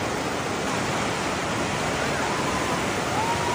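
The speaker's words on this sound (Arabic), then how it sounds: "نهر ليدر والدنيا مطر" The Lidder river in Pahalgam, Kashmir, flowing in the rain, a constant broad rushing wash of water, steady and moderately loud throughout with no pauses.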